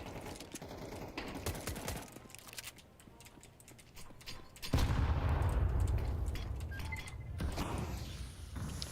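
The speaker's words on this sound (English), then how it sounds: "I cannot hit that angle with this shotgun" Shotgun fire and game action in Counter-Strike 2, a steady clatter of shots and mechanical noise that swells into a louder, denser stretch midway, with no talk.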